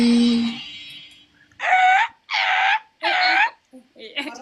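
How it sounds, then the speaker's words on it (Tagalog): A noisy corgi gives three loud, drawn-out whining howls in quick succession, close by, with a brief trailing yip at the end and a faint voice murmuring just before. "Ayaw mo nang maingay na aso?"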